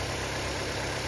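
A 2002 Pontiac Grand Am engine idles with a steady, dense, close rumble that holds without a break, and no voices are heard.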